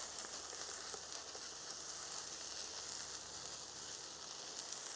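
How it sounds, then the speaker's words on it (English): Jerk chicken sizzles steadily in a pan as it is stirred, with a continuous close frying hiss and faint scraping. "Just give that a stir around."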